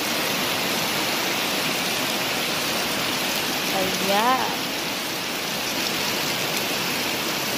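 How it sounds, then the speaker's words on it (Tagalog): Steady, dense rain pours down on an afternoon, a constant hiss that fills the scene, while a voice speaks briefly over it. "ang ulan parang lumakas na at papunta dito sa akin"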